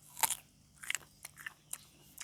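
Crunchy bites and chewing of spicy Thai lotus stem salad with raw shrimp, several close, sharp crunches spaced irregularly with quiet gaps between, no talking.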